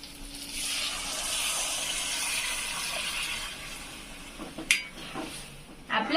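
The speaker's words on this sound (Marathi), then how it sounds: "याच्यात पाणी टाकून घेते आता मी हे बघा" Water poured from a container into a pan while cooking a village-style green moong pod curry, a steady close splashing rush for several seconds ending with a few clinks of the vessel.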